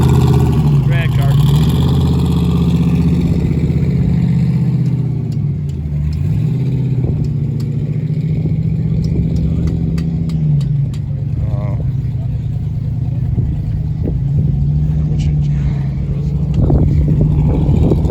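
A drag car with an LSX engine at a Main Street car show in Port Huron, Michigan, rumbling loudly and continuously with a deep lumpy idle and brief blips of revving, while people talk nearby.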